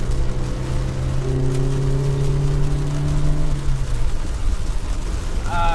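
A freshly restored Mercedes 190E 2.3-16 (Euro) engine revs under acceleration, its drone rising in pitch, then easing off around a gearshift, with steady road noise inside the cabin.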